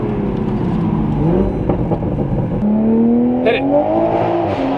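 A Toyota Supra with a modified aftermarket exhaust revs loudly and close, the engine note rising and falling in sweeping pulls, while a voice speaks briefly.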